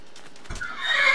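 A horse in a video game neighs loudly in one drawn-out whinny rising after a short thump, up close with no talking.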